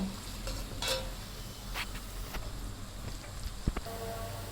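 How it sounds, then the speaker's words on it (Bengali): Onions fry in mustard oil over a clay stove for chicken bhuna, a soft steady sizzle with occasional stirring scrapes and one sharp utensil knock, fairly quiet and close. "পেঁয়াজটাকে খুব সুন্দরভাবে ভেজে নেব বাদামি হয়ে গেলে"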